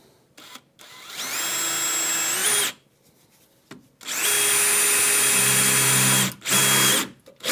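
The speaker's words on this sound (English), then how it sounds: "drill through on the hole, on your marks." A power drill bores through a side skirt on a Ford Focus with a 1UZ V8 swap, in a garage: two long, loud whining bursts with steady pitch, separated by a short pause, with no talk.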